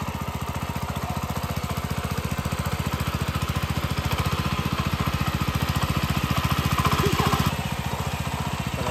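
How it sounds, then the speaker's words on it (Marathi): A tractor engine runs in a muddy farm field, a steady, rapid chugging pulse that holds close and even throughout, swelling slightly louder near the end. "बायको ट्रॅक्टर चालवते बघा"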